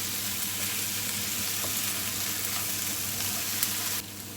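Tomatoes and salt being stirred in a hot frying pan for a fish devil, a loud dense continuous sizzle with faint scraping of the spoon throughout, cutting off abruptly near the end, no voices.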